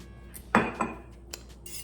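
A spoon clinks against a cup while stirring almond milk mixed with apple cider vinegar, giving one bright metallic knock, a softer follow-up tap and a faint later clink in a quiet kitchen.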